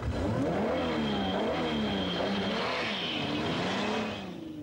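Volkswagen Golf VR6 with its V6 engine revving hard, the close, loud engine note climbing and dipping through the gears before easing off at the end.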